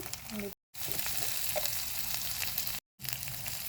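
Ginger, garlic and spices frying and being stirred in a pan for chicken kosha, a loud close continuous sizzle with occasional scraping, broken by two brief silent cuts.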